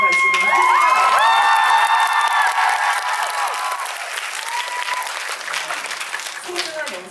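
Loud applause with cheering and high excited shouts from a crowd, swelling at first and then fading into scattered claps and voices.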